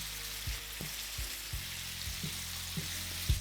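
Garlic chicken pieces fry in a pan over a medium-to-high gas flame, giving a steady, close hiss broken by soft low thumps every half second or so.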